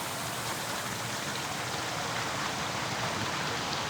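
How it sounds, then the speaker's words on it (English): Water rushes steadily out of an overfull pond, a dense, continuous broadband roar heard up close with no pauses and no talking. "Look at how much water is leaving the pond right now."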